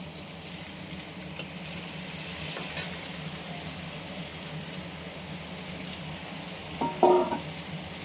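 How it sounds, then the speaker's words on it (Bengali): Cheese pasta is folded into fried vegetables in a pan with a quiet sizzle and soft stirring scrapes, with a couple of faint utensil knocks near the end. "এবার আমি পাস্তাটা আস্তে আস্তে মিশিয়ে দেবো।"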